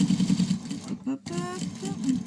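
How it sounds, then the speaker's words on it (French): A sewing machine stitches along the edge of a fabric wipe, humming in a fast, steady rhythm under a voice, with a short pause partway through. "Je vais d'abord coudre tout le bord."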